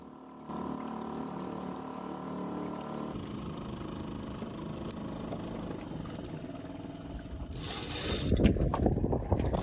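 Sail unfurled on a sailboat leaving an anchorage, with pulleys and rigging giving a steady mechanical whir and ratcheting clicks, growing louder and busier toward the end, with no talking.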